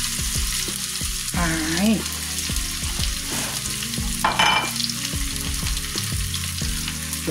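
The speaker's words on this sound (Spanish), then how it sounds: "el aceite ya está caliente. Venga, la cebolla." Onion frying in hot oil in a pot for Riojan-style macaroni makes a steady close sizzle, with stirring clatter and a brief spoken word over it.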